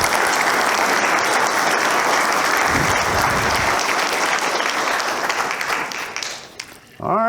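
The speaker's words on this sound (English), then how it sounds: "How about a round of applause for Tom?" A lecture audience gives Tom a full, loud round of applause, dense and sustained clapping that thins and fades toward the end before a voice begins speaking.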